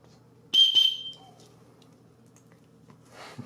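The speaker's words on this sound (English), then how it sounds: "The headlamp already has a whistle." A single short, shrill blast from a whistle built into a headlamp sounds close by, then fades into quiet room tone.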